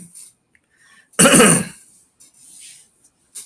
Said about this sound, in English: Clear my throat real quick.